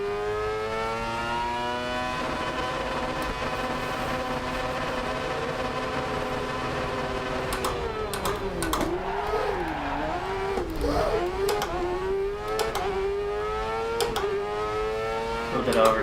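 Kart engine in the DiRT Rally 2.0 video game, a Kross cart, droning steadily at high pitch then wavering as throttle is blipped and eased, with sharp clicks toward the end.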